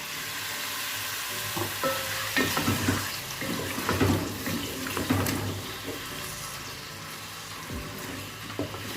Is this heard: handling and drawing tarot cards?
no